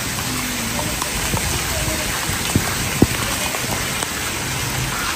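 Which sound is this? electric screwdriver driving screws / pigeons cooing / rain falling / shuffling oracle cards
rain falling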